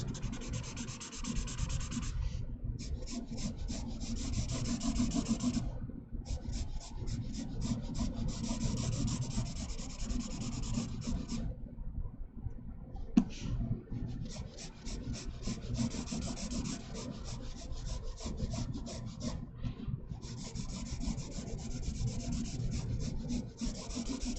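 Pencil shading scrubbed into a sketch of an automobile instrument panel: close, steady rhythmic rubbing strokes on paper in long runs broken by short pauses, with no talking.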